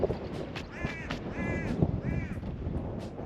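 A crow caws three times outdoors near a chimney, moderately distant harsh calls over a noisy background, with no talk.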